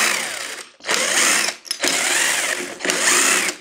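An impact driver loosens bolts on a Varla Eagle One V2.0 electric scooter, giving three loud, rattling bursts of whirring and hammering separated by short pauses.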